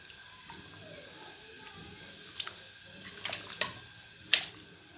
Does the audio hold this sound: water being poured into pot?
yes